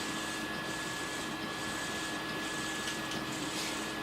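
A printer runs steadily in a quiet room, a soft continuous mechanical whir with a thin high whine and faint shuffling pulses.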